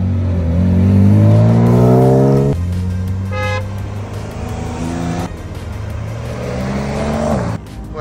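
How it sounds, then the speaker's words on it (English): Supercars at a cars-and-coffee meet, a Lamborghini Huracan Evo and a Porsche GT4 among them, rev hard nearby: loud rising engine roars, a sharp cutoff, then further blips and climbing revs in quick succession. "Huracan Evo, a GT4, super noisy"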